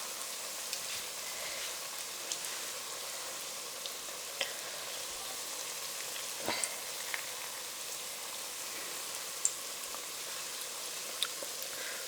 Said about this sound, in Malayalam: ഒരു സൈഡ് ഫ്രൈ വരട്ടെ, എന്നിട്ട് നമുക്ക് അടുത്ത സൈഡും തിരിച്ചിട്ട് കൊടുക്കാം.